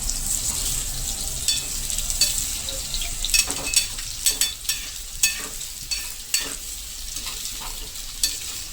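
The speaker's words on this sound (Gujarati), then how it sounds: "આ ટુકડાને આપણે તેલમાં શેકવાના છે જેથી કરીને અંદરથી એકદમ સોફ્ટ થઈ જાય" Raw banana pieces frying in oil in a home kitchen, a steady close sizzle with a string of sharp metallic scrapes and clinks from a ladle stirring the pan, building toward the middle and repeating irregularly.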